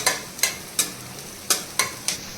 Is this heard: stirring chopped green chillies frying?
yes